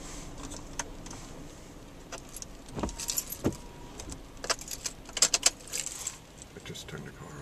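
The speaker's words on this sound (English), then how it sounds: "I just turned the car off." A car being switched off at a beach, followed by close keys jangling in bursts, with faint surf and wind in the background.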